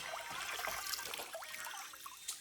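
River water trickling and splashing at a forest riverside in Konkan as leaves are rinsed by hand, a steady close wash of watery spatter and dribbles with no voices.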